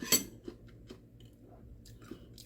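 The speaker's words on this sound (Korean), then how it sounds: "아작아작 소리 들리죠." Crunchy pickled lettuce being chewed close up, with a few crisp bites and faint crunching between them, no talking.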